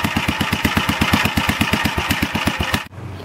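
A 1947 Gravely walk-behind tractor engine with a broken exhaust manifold runs close and loud, its rapid, even single-cylinder putter cutting off sharply near the end and leaving a low, quiet hum.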